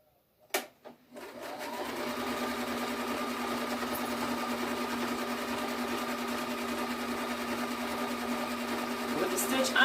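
A sewing machine runs a steady straight stitch across a quilt block, a continuous close whirring hum that starts after a couple of sharp clicks and keeps going evenly, with faint talk around it.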